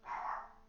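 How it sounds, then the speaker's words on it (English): A single short dog bark, muffled and somewhat distant, as if from another room. "And that's my dog in the background."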